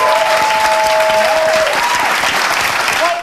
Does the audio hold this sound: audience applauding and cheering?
yes